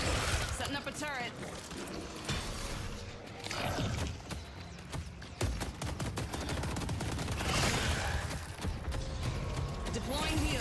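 An automated turret in a video game keeps up rapid mechanical gunfire, a dense rattling stream of shots with clanking machinery mixed into a busy battle, and a voice talking over it.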